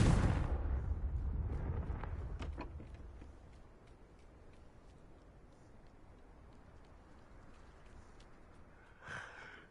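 A Confringo blasting-spell explosion in Hogwarts Legacy on PS5: one loud burst at the start trails off into a low, fading rumble, and a fainter blast follows near the end.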